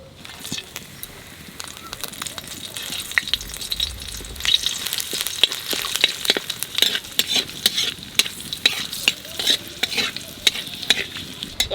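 Cumin, bay leaf and dried chilli hit hot oil for a katla fish curry, setting off a loud, dense, crackling sizzle with rapid pops that build and continue throughout.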